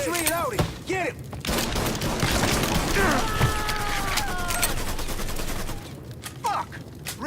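Dense gunfire fills a Mafia 3 shootout, sustained volleys and rapid bursts crackling almost without pause, loud and close, with a few voices shouting over the din.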